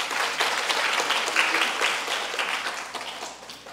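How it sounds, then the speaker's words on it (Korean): A church congregation claps together to welcome a visiting mother during the service, a full, sustained round of applause that holds steady for several seconds before gradually easing. "박수로 환영하겠습니다"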